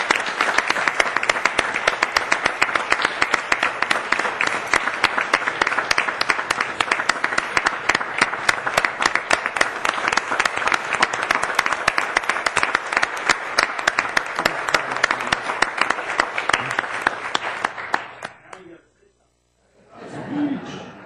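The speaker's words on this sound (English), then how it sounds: "Let's give him a round of applause." Audience at a Coquitlam regular council meeting gives sustained loud applause for about eighteen seconds, dense clapping that stops abruptly, followed by near silence and a faint voice.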